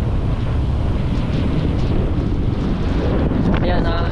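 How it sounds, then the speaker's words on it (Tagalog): Typhoon-strength wind (Typhoon Emong) blasts steadily into the microphone outdoors, a loud, unbroken low roar with gusty buffeting and a brief fluttering rattle near the end. "Kalakas ang hangin, no?"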